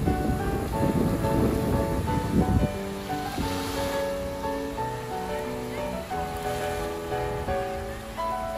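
Sea waves on a Danish beach in the summer morning, surf washing loudly ashore at first and then easing into softer background wash while tonal, music-like sounds ring over it.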